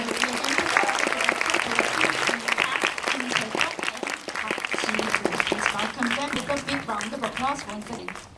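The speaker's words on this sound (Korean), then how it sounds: "큰 박수로 환영해 주십시오." Sustained audience applause fills a Busan International Film Festival screening hall as the film's director and actors are welcomed onstage, dense and steady clapping throughout with a host's amplified voice speaking over it.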